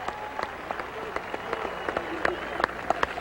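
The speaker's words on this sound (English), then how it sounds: "Let's give that band one more round of applause." A crowd at a high school all-star football event applauds for the band, a steady field of clapping with sharp individual claps standing out.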